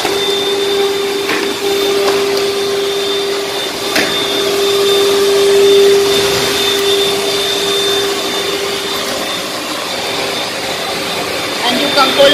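A vacuum cleaner runs steadily at close range on a hard floor with a whining motor tone, while a voice talks faintly underneath.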